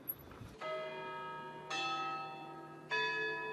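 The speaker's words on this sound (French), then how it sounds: "Au loin, le carillon beaunois nous appelle." Carillon bells of Beaune, the Burgundy wine capital, ringing in three distinct struck tones with long ringing sustain, clear and moderately loud, with no talking.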